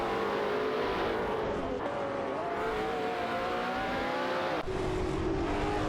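An Aston Martin Vantage AMR race car in a racing video game, holding a steady high engine drone with a couple of abrupt pitch drops as it shifts gear, alone without talk.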